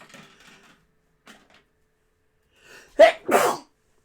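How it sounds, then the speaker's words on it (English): A single close, loud human sneeze, a sharp burst with a short breathy tail, follows some faint rustling. "gotta sneeze"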